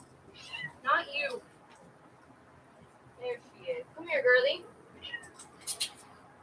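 A cat meows several times in short, insistent calls spread across a few seconds, close by, with people talking around it.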